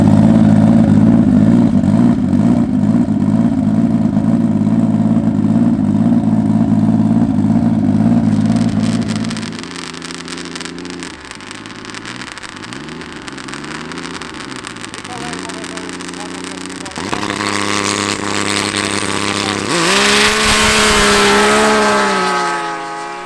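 A snowmobile engine drones loudly at a steady rev, drops off, then surges and climbs through several rising revs, with people talking intermittently over the engine noise.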